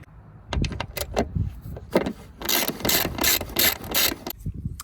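A ratchet on a wobble socket backs a bolt out of a Honda Element rear bumper cover. The clicking is close and loud, starting with a few separate clicks and building into fast, steady ratcheting.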